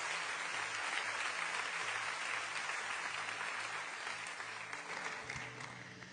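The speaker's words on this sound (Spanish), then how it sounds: "Vamos a dar un aplauso al Señor." A church congregation applauds the Lord during a sermon, with sustained, even clapping from a large crowd that sounds somewhat distant and holds steady for the whole stretch.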